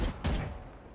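Gunfire in the Valorant video game during a youth tournament match, a burst of loud close shots opening the second and trailing off under the game's ambient sound.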